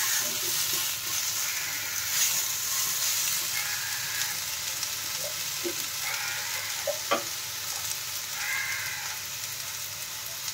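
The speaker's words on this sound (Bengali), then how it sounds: "আলু, পেঁপে, বেগুন, ডাঁটা দিয়ে এবার ভালো করে একটু নাড়াচাড়া করে নিতে হবে।" Potato, papaya, eggplant and drumstick pieces frying in a pan, a continuous hiss of oil under scattered scrapes and clinks as the vegetables are turned, close and fairly loud, with nobody speaking.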